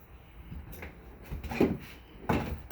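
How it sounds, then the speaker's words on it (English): Self-closing drawers in a 2022 Sandpiper 403RD camper are pushed shut, giving two soft, quiet thumps about a second apart in a calm interior. "those are all the self-closed drawers. You just give them a good little push and they'll shut"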